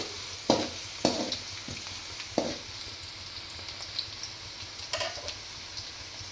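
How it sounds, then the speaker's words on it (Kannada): Onions frying in oil until brown for red chilli chicken, a gentle ongoing sizzle broken by a handful of distinct spatula scrapes and taps, loudest early and then spaced out. "ಈರುಳ್ಳಿನ ಹಾಕಿ ಸ್ವಲ್ಪ ಬ್ರೌನ್ ಕಲರ್ ಬರೋವರೆಗೂ ಈ ರೀತಿಯಾಗಿ ಎಣ್ಣೆಯಲ್ಲಿ ಫ್ರೈ ಮಾಡ್ಕೋಬೇಕು."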